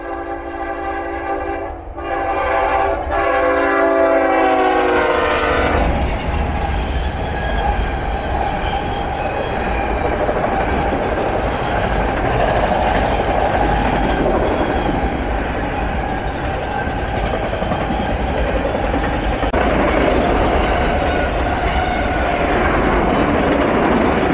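A train horn blasts several times close by near a grain elevator. The heavy rolling rumble and clatter of the train passing takes over and continues loud and steady to the end.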